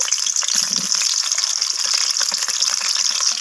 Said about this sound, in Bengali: এরপর আমি এখানে আলুগুলো দিয়ে দিলাম। তো আলুগুলোকে আমি লালচে করে ভেজে নেব।